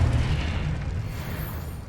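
Confringo blasting spell exploding in the Hogwarts Legacy video game: a deep, rumbling boom that hits at once and then slowly fades, with no talking.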